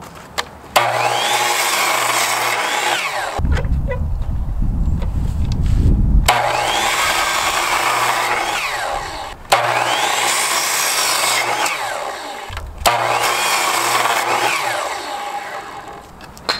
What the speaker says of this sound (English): if you're using a chop saw, make sure you go from your 30 degree angle to your 45